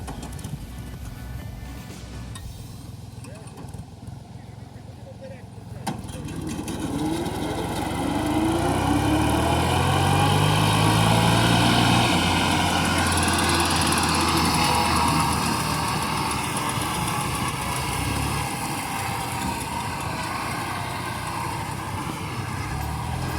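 A Dongfeng 244 DHX tractor engine drones steadily while mowing grass, rising louder after a few seconds as the mower runs, with a continuous mechanical hum throughout.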